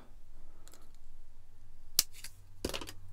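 Trimming edging strips for a scratch-built Bandai Star Wars 1/144 AT-AT model kit: two or three crisp snips, close and fairly quiet, with a sharp cut near two seconds and another after it over a faint background hum.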